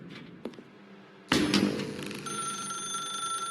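A telephone in The Stanley Parable starts ringing after a couple of soft clicks, a sharp electronic trill that rises and then holds as a steady, bright ring.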